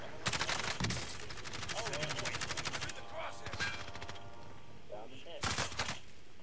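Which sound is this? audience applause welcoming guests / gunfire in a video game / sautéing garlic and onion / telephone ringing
gunfire in a video game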